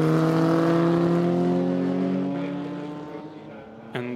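A Maserati race car pulls away from a Ferrari on the Hungaroring circuit, its engine note a strong harmonic whine that fades as the car recedes, with a brief sharp sound near the end.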